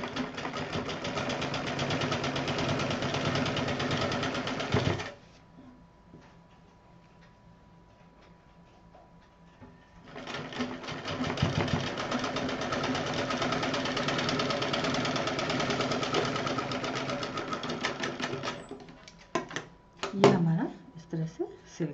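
A sewing machine stitches a purse, its steady mechanical chatter running for about five seconds, stopping, then resuming for another stretch before irregular handling knocks.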